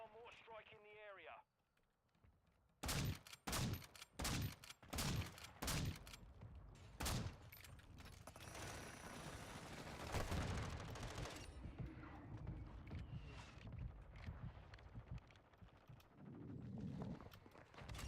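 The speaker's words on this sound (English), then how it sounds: "Hostile mortar strike in the area." Mortar strike and gunfire in a video game: after a spoken line, several heavy booming blasts land in a rapid cluster, followed by sustained rumbling gunfire and explosions, with voices over parts of it.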